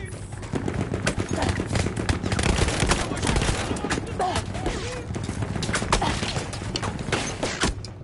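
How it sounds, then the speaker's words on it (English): Battlefield 1 gunfire and mortar blasts, a steady dense barrage of shots and distant booms going on throughout, with voices talking over the battle. "We gotta deal with these mortars"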